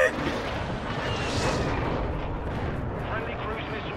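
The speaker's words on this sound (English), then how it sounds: "Friendly airstrike in the AO." Airstrike explosions in Call of Duty Modern Warfare 2, dense continuous rumbling blasts and battle noise filling the whole stretch, with game voices in the mix.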